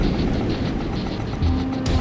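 A Venom aircraft lifting off in the Command & Conquer 3: Kane's Wrath video game, a steady, loud rotor-like whir and engine hum that holds throughout with slight swells.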